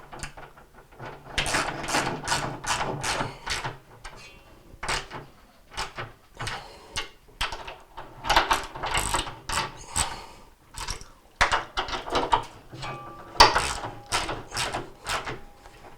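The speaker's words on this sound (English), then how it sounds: "And now we'll go around and tighten them all." A ratchet tightens the bolts on the inner basket of a Whirlpool washer during repair, giving repeated close, rapid clicking bursts with short pauses between strokes across the whole stretch.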